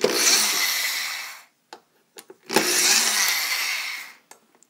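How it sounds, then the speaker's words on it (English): A power screwdriver removing screws from a Mackie SRM450 speaker cabinet, running in two long loud whirring bursts separated by short clicks and brief taps. "So now you just gotta remove all these nice screws."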